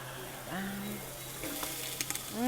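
Onions tipped into a pan of hot broth for a traditional paella, giving a soft sizzle and bubbling with a few light clinks and scrapes, fairly close, a brief voice near the start.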